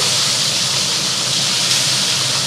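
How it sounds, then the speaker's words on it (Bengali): Small fish frying in hot mustard oil in a pan, a steady loud hiss and sizzle throughout with no talking. "এই যে তেলে মাছগুলো দিয়ে দিচ্ছি"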